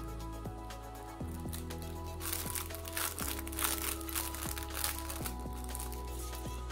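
Clear plastic parts bag for a 1/35 scale AMMO of MIG King Tiger 1945 model kit crinkling and rustling close by in steady handling, with a low background hum underneath.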